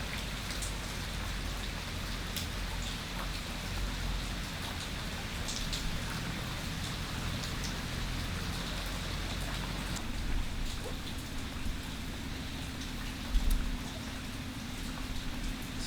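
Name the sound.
rain falling in Mexico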